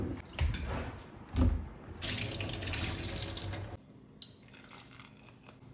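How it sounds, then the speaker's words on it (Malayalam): Cassava is rinsed under running tap water in a kitchen sink before cooking, with gushing water bursts, crinkling handling noises and a quieter trickle between them, close and without voices. "ആ കപ്പയും കൂടി കഴുകി അതിലേക്ക് ഇട്ട് കൊടുത്തിട്ടുണ്ട്"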